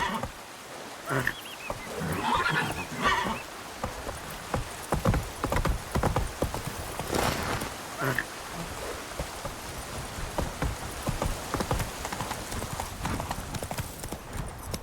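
Roach the horse from The Witcher 3 gallops with rapid, rhythmic clip-clop hoofbeats, loud and close throughout, broken by a couple of whinnies, with patter like rain beneath.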